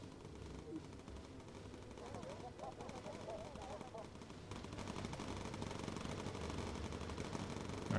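Bomber gunners in Bomber Crew fire steady rattling machine-gun bursts at an enemy ace fighter over a droning aircraft engine, distant and muffled, with speech in between.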